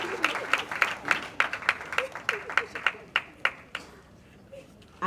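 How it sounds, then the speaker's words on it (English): An audience at a film premiere screening claps in scattered, uneven bursts that swell and fade, with a short lull near the end and no voices on top. "A round of applause."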